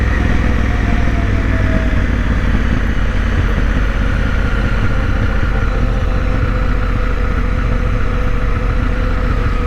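A Honda Africa Twin motorcycle rides through the middle of an old town, its engine a loud, steady, continuous rumble with constant low-end drone and road noise throughout, no pauses or talk.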